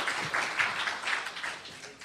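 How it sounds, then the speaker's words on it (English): A brief burst of audience applause: dense, steady clapping that swells and eases slightly over about two seconds, fairly close. "You're applauding my commercial, for God's sakes."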